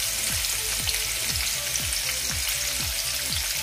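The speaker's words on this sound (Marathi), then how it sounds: "आता याच तेलामध्ये मी कांदा भाजून घेते।" Two vertically sliced onions fry in hot oil, a steady loud sizzle with soft rhythmic stirring strokes repeating through the clip.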